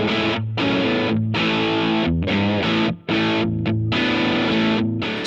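Heavily distorted electric guitar with a bright humbucker pickup through a Boss DS-1W distortion pedal, playing loud sustained chords with a few short breaks, thick and saturated, no talking.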